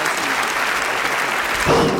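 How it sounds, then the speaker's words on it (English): Steady applause from an audience fills the clip, with a brief louder swell near the end. "So a round of applause again for Carmen Lyons."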